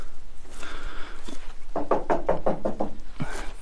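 A run of sharp knocks on the metal body panel of a junked car, about eight raps in a quick cluster followed by one more, close and fairly loud with no talking.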